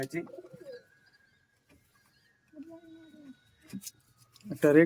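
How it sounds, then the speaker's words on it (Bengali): Racing pigeons at a tournament loft giving a few soft, low coos close by, separated by quiet gaps, with people talking briefly at the start and end. "পায়রা"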